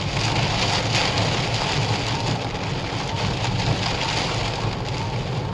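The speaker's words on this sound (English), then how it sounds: "Look at this rain coming down now." Steady heavy rain drums on a car driving along roads between Gretna Green and the Lake District, a dense, continuous hiss with no breaks and no talking.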